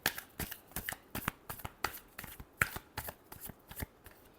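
Tarot cards are riffled and shuffled by hand, a rapid series of about a dozen crisp slapping bursts in uneven rhythm, close and clear with no talk.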